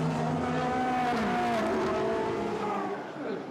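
GT4 race cars on the Zandvoort circuit in a 2014 GT4 European Series race, a steady, fairly distant engine drone shifting pitch as the cars run past, with no talking.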